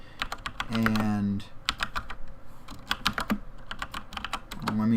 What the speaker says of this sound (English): let me type this up real quick